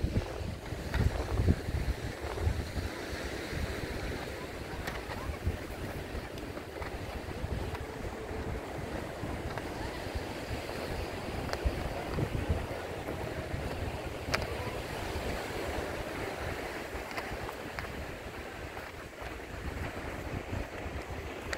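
Waves wash onto a beach with steady surf and wind rushing across the microphone, a continuous broad roar with occasional soft thumps and no clear talk.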